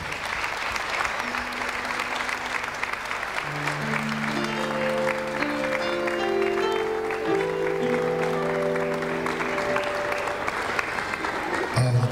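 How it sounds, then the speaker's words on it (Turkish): Guests at a Turkish wedding celebration applaud continuously, loud steady clapping throughout while sustained musical tones swell in partway through and carry on beneath the clapping. "Ama alkışlarımızı eksik etmeyelim diyoruz."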